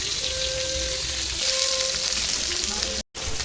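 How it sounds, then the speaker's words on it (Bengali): Bay leaf, onion and green chili fry in hot oil with a steady, close sizzle that runs unbroken before cutting out briefly near the end. "ফোড়ন দিচ্ছি, তেজপাতা দিলাম, করে পেঁয়াজ দিলাম, কেটে রাখা কাঁচা লঙ্কা দিলাম"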